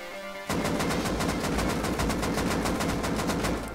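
Automatic rifle fire in the video game Rust, with recoil being controlled, breaks out after a brief pause into a loud, rapid, sustained burst of evenly spaced shots that runs to the end.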